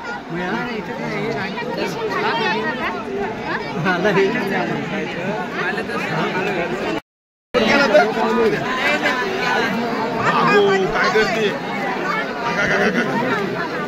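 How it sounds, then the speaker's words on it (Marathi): Dense, continuous chatter from a large crowd of pilgrims at Trimbakeshwar temple in Nashik on a Shravan Monday, with many overlapping voices close and far and a brief moment of silence midway. "गर्दी खूप आहे"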